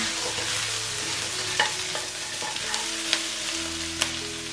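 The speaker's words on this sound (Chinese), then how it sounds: "再来一点点椒盐粉， 再次翻炒均匀就可以出锅啦" Razor clams are stir-fried in a wok with pepper salt, a soft steady sizzle broken by a few sharp clacks of the spatula against the pan.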